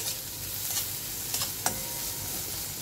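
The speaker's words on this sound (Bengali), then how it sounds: "সবজিটা আরও একটু নাড়াচাড়া করে নিতে হবে।" Vegetables for sabu pulao are stirred in a pan. A few soft scrapes and taps sit under a steady background hiss, faint and sparse, with no speech.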